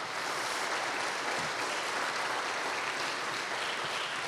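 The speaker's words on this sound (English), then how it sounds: "Can we give a round of applause to Ingemar" An audience at a summer organ recital claps continuously, a dense, even wash of applause that holds steady throughout.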